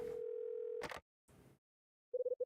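Telephone tones from the video game Last Window: a steady dial tone, a few clicks as the number is dialed, then a series of short repeating ringing beeps.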